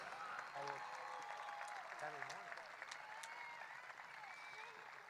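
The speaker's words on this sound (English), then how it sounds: "let's give them one more round of applause" Stadium crowd applauding graduation speakers at a high school outdoor ceremony, a broad steady wash of clapping from a distance, with a few faint whistles and cheers over it and no speech.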